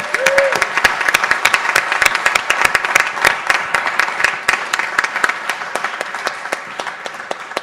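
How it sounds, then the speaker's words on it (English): Sustained applause from an audience at a graduation ceremony for an accelerator program cohort, dense overlapping claps continuing steadily at full volume throughout. "kind of a big round of applause for the cohort."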